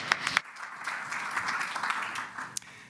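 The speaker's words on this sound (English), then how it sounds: "a round of applause for him" An audience at a technology conference gives a round of applause. Several sharp claps open it, followed by a softer, sustained patter that fades at a modest distance.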